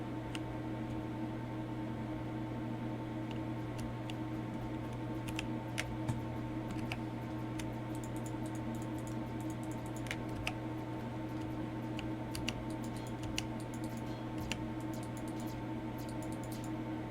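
Scattered, irregular clicks of keys being typed on a computer keyboard during a game of Empyrion, faint and sparse over a constant droning hum.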